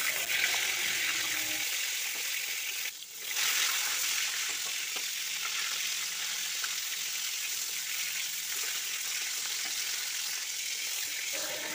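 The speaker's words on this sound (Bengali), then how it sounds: "পটল ভেজে নেওয়া হয়ে গেছে।" Pointed gourd (potol) pieces rubbed with salt and turmeric frying in hot white oil in a wok, a steady close sizzle and crackle running throughout with a brief dip near the start, no talking.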